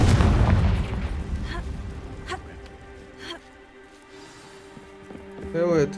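A Confringo fire spell bursts against stone pillars in Hogwarts Legacy, a loud booming blast up front that rumbles and fades into softer crackling debris and a whooshing magical tail.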